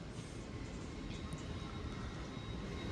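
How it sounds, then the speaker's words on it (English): A low, steady rumble of an Avanti West Coast passenger train, unit 807 006, at a station platform for Liverpool Lime Street, a continuous broadband drone with faint high whine, fairly distant and even throughout. "Well, here we go, here's our train."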